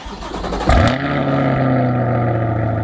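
A 2020 car engine cranks briefly on a cold start, catches with a sharp burst, then settles into a loud, steady high idle.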